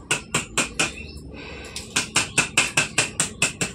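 Boiled eggs are cracked, their shells tapped sharply against a hard surface in a fast, even series of about a dozen close, crisp knocks, with a short pause partway through.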